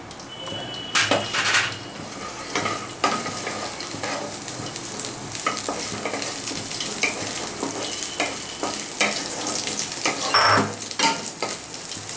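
Dry red chillies and slit green chillies sizzle and crackle steadily in about a tablespoon of hot oil in a pan, with occasional stirring scrapes and clinks of utensils; no one talks.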